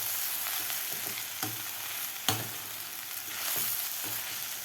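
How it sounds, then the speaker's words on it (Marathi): Poha (flattened rice) is stirred gently into a sizzling tempering in a pan, giving a steady, close frying hiss broken by occasional spoon scrapes and taps, with no talking. "आता व्यवस्थित आपल्याला हलक्या हाताने पोहे मिक्स करायचे आहेत खालच्या फोडणीमध्ये"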